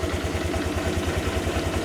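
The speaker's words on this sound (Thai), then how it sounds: "เสียงเครื่องนิ่งๆนะครับ เดินเบาเงียบๆ" A 2024 Honda Click 125i scooter engine idles steadily, a low, even pulsing thrum with light mechanical clatter, close and continuous for the whole stretch.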